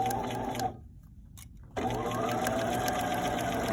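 A sewing machine stitching fabric pieces for an eyeglass case runs in a steady whir, stops for about a second, then resumes its continuous close, loud hum.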